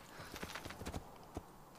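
Horse hooves clip-clop in a steady trotting rhythm in the video game Assassin's Creed II, crisp and fairly quiet, with no talking over them.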